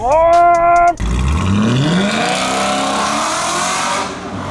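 An Audi RS5 engine revs hard on a downshift, a brief high blip followed by a loud, close, rising and falling exhaust roar with crackle as the car pulls through the gears.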